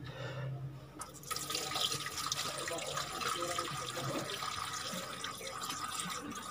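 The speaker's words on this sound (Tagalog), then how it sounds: "Okay, salin na naman natin ngayon ng tubig." Water pours steadily into a car radiator during DIY engine maintenance, a close, continuous splashing gurgle that barely changes in level from start to finish.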